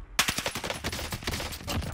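Rapid automatic gunfire in Call of Duty: Warzone solo play: a dense burst of sharp, evenly spaced shots starting abruptly and rattling on without pause, loud and close.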